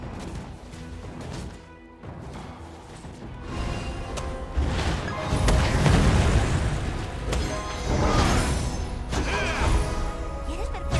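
In the League of Legends video game, Tristana fires explosive shots: repeated booms, crashes and bursts layered over busy game effects, loud and close, with louder clusters in the second half.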